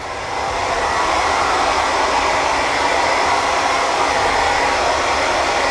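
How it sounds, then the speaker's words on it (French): A hair dryer blowing wind on a film set for parody commercials, a loud, steady close-up whoosh of fan air that starts within the first half second and holds unchanged throughout. "avec un sèche-cheveux, en train de balancer du vent dans leurs cheveux"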